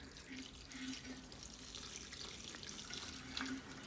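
Water pouring steadily from a watering can onto houseplants in February, a continuous soft splashing trickle with faint drips, close and alone without talk.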